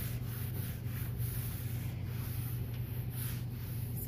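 Color wash paint being rubbed into wood with a cloth or brush, a steady continuous scrubbing sound with a low hum beneath, close and even throughout.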